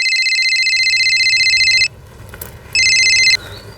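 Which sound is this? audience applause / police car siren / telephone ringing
telephone ringing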